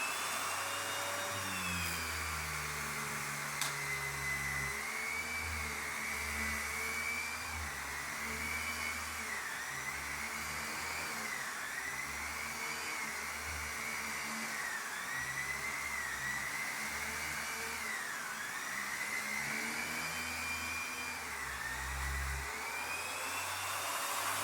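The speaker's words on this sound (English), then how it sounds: "every time I use this vacuum, it brings back fond memories" A Triple S Versamate VM 14 upright vacuum cleaner runs continuously, a steady motor whine and airflow hum with slight wavering pitch, heard close and alone for the whole stretch.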